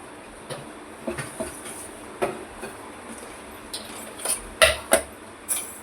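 A spoon stirs a rice flour and homemade spice mixture in a bowl, giving scattered light metallic clinks and scrapes at an uneven rhythm, close and fairly quiet over a faint background hiss.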